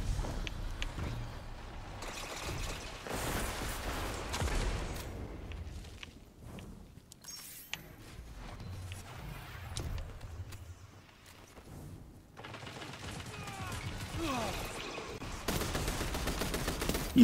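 Gunfire in Destiny 2, repeated volleys of shots in clusters across a busy firefight with quieter gaps in the middle, footsteps and movement noise underneath.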